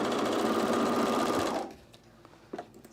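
A serger sewing machine stitches and trims fabric for men's cargo shorts, running loud and steady with a fast, even whir before cutting off at about the midpoint, leaving quiet handling noises.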